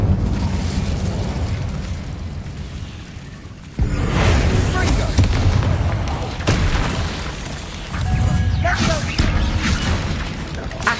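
The Incendio fire spell cast in Hogwarts Legacy, a sudden booming whoosh of flame that swells into a sustained rumbling roar with a second surge, heard alongside speech.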